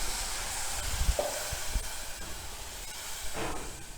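Ground spice paste hisses and sizzles in hot oil with red chilli powder, a steady close frying sizzle with a few soft pops and stirring knocks.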